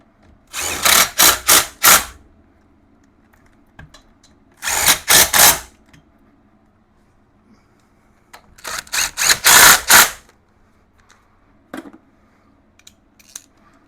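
A power tool runs bolts into the rear differential of a 1996 Yamaha Wolverine 350 ATV in several loud, close bursts, a few short pulses each, separated by quiet pauses.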